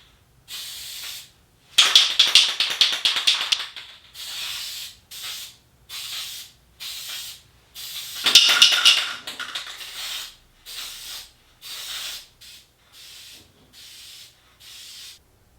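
An aerosol can of air-filter oil, nearly empty, sprays onto a Yamaha YZ250 dirt bike air filter in a series of hissing bursts, some long and some short, separated by brief silences and gradually becoming weaker and sputtering.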